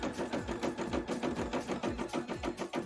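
A sewing machine stitching fabric runs at a fast, even mechanical rhythm, its repeated needle strokes chugging steadily throughout at moderate loudness.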